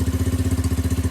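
A Lexmoto Street motorcycle engine idling on choke, running rough: a close, steady low chugging pulse with fast even firing beats and no other sounds.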